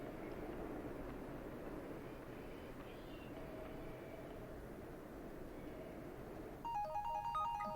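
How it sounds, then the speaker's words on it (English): A phone gives a short electronic beep ringtone near the end, after a long stretch of steady, quiet background hiss. "My phone should beep right now."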